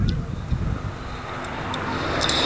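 A Boeing B-17 Flying Fortress bomber flies at the 1992 RAF Honington airshow, its piston engines a steady broadband drone that gradually swells louder, mixed with wind and a commentator speaking over it.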